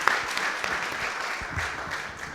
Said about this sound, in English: if I could just get a round of applause for the speed at which Caltrans is moving on this